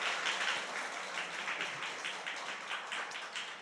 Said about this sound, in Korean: 우리 감사합니다 뜻으로 박수하겠습니다